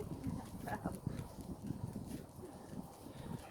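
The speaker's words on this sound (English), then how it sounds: "Got Lorraine's ponies here." Hooves of ponies and horses clop irregularly at close range, soft muffled knocks scattered throughout, with some faint talking underneath.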